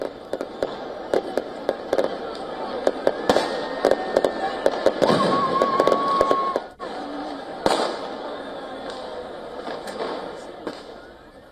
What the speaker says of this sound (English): Handheld laser pens and flashes of fireworks illuminated the walls of one of Italy's most famous landmarks.